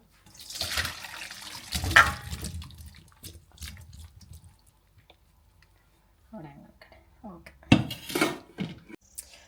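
Water splashes and pours from a pot of boiled tapioca in bursts as it drains, with metal pot clatter and a drip between pours; a voice speaks now and then.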